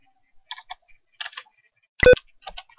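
Numbers tapped out on a computer keyboard in sparse, separate clusters of crisp clicks with pauses between, followed by one louder, sharper click near the end, all close and alone.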